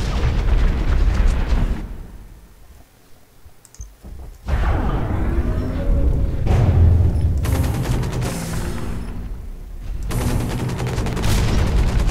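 TOW rocket explosions in the mech game Hawken arrive as several loud bursts of booming and crackling. A brief quiet stretch and then a sharp renewed blast break them up, with rumbling, clicking battle noise between the impacts.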